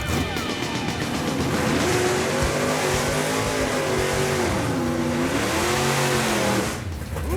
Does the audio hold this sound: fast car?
yes